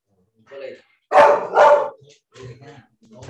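A dog inside a house barks protectively at someone at the door, a few loud, sharp barks close by, two strong ones back to back, then softer yips and whimpers.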